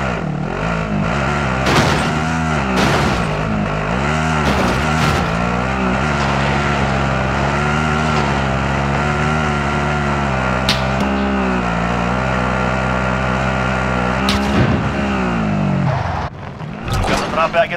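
A vehicle drives in Call of Duty: Modern Warfare, with a loud, steady engine drone that rises and falls with changes in speed. Game voices and combat sounds play over it, and the engine tone cuts off near the end.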